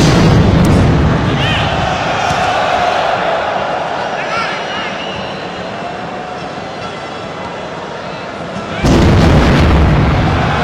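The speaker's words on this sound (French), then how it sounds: "Deuxième explosion, Stade de France." An explosion at the Stade de France in Paris during an attack, heard as a loud rumbling blast amid crowd noise, followed by sustained roaring and a second abrupt surge of loud noise near the end.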